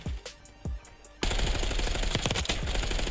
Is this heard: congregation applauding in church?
no